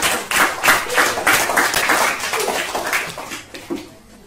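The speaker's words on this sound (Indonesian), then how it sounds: "Tepuk tangan untuk kelompok 1." Students applaud a presenting group in a classroom, a loud, steady burst of many hands clapping together that fades out near the end.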